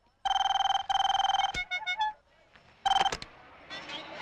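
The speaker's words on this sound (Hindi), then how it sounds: "जर्मन ने कर्जे के लिए फोन किया साला" An incoming call's telephone ringtone sounds loud and close in two repeated electronic trilling bursts, followed by short beeping tones and a brief second ring, with no talking.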